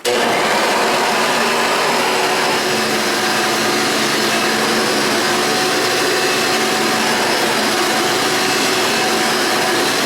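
A $9 thrift-shop Hoover vacuum cleaner, cleaned, lubricated and greased, runs with a loud, steady motor roar and airflow rush that holds unbroken from start to finish, with no talking.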